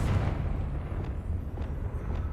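Confringo blasting curse explosion in the Hogwarts Legacy video game: a dense, rumbling low-heavy blast that stays sustained throughout, with faint repeated crackles over the top and no speech.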